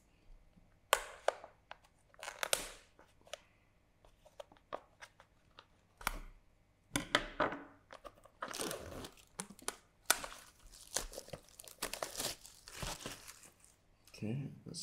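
Packaging for a Blackmagic URSA V-lock battery plate is opened by hand, with bursts of crinkling, tearing and rustling plastic and cardboard, some sharp snaps, spread irregularly over quiet gaps, close to the mic.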